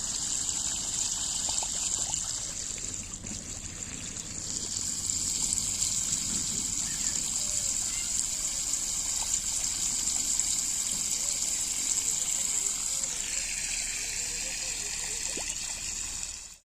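Tap water runs steadily into containers being filled at a village home on a cold morning, a continuous gushing flow that shifts in pitch as the vessels fill.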